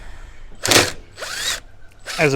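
Rivets are set with a hand rivet tool on the logo of an 80 series Land Cruiser, giving three sharp, close ratcheting squeezes with clicks, separated by short pauses.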